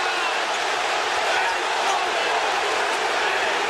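Arena crowd at an NBA playoff game between the San Antonio Spurs and Seattle SuperSonics roaring in a steady, loud wash of noise after a hard foul, with the broadband cheering and jeering sustained throughout.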